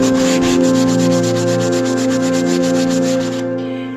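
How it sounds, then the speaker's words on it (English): A wooden bookcase is sanded with fast, rhythmic back-and-forth rubbing strokes, loud and close, fading out at the end with no speech. "I let everything dry, sanded it down, and it looked like nothing ever happened."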